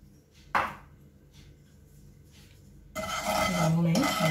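A spoon stirs chilli powder, turmeric and salt with egg in a bowl, making one sharp clink and then a steady rasping scrape against the bowl.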